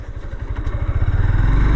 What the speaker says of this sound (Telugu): నాకు ఈ బైక్ రైడ్ చేస్తుంటే ఏదో నేను ఒక స్పోర్ట్స్ బైక్ రైడ్ చేస్తున్నంత ఫీలింగ్ వస్తుంది.